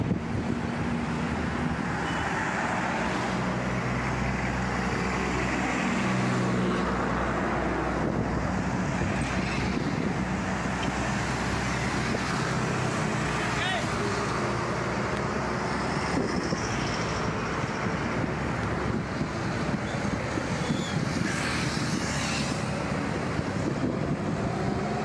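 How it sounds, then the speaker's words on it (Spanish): Motorcycles and cars pass over a pothole on a road, a continuous rush of traffic noise with wind buffeting the microphone, vehicles sweeping by close in a steady wash of engine and tyre sound. "si vieron cómo pasan las motocicletas casi que por encima del hueco"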